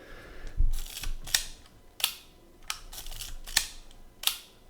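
A Copal shutter on a Lynx 14 rangefinder camera fires several times, each a sharp, close metallic click separated by pauses of about a second, with faint handling noise between.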